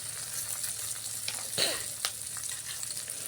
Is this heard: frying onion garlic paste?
yes